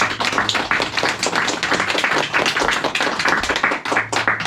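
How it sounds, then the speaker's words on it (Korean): Audience at a neighbourhood bookstore lecture clapping to welcome a Seoul National University professor, a loud, close patter of many hands sustained throughout. "선생님, 그럼 박수로 소개시켜주세요"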